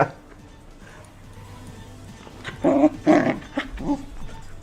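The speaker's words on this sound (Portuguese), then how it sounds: "Cachorro do Satã" Ellie the dog lets out a few loud, close growling bursts in the second half, after a quiet, low-level stretch at the start.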